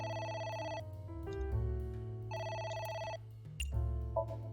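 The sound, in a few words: telephone ringing, from a video game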